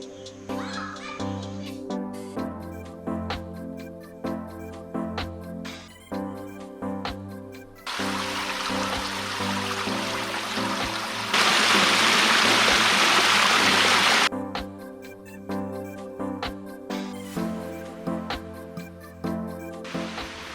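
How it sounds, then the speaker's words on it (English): A waterfall on a stream in a nature park roars as a broad, loud rush of water in the middle stretch, with tonal music playing before and after. "You know what happens when water trips over? Waterfalls."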